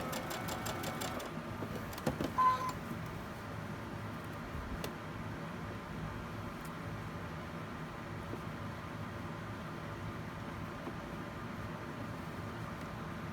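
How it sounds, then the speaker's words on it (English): A sewing machine stitches quilt block squares, starting with a quick run of rapid needle chatter and then settling into a faint, steady low hum. "I'm just going to go ahead and sew them"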